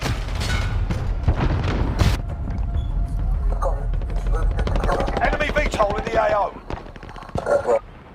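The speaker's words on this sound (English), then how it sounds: "Enemy VTOL in the AO." An enemy VTOL aircraft in Call of Duty: Modern Warfare, a rapid thudding rotor chop under bursts of gunfire and explosions, with voices speaking over the battle.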